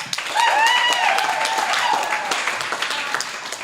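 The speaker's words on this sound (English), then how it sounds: "Give a round of applause for RAD." An audience at a fundraiser evening claps steadily for a few seconds, the applause dense and close with excited voices and whoops rising above it, gradually tapering toward the end.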